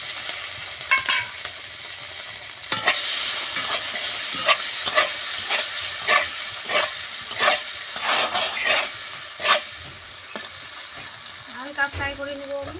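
Garlic, green chillies and dried chillies frying in a pan, with steady sizzling under repeated stirring clatter from a spoon and a voice speaking at the end.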